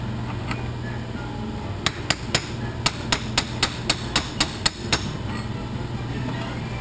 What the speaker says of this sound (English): Bigger hammer.